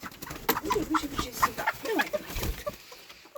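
Hens and a rooster settle in a backyard coop in the evening, giving soft, low clucks and brief murmuring calls close by, with quiet rustling between them.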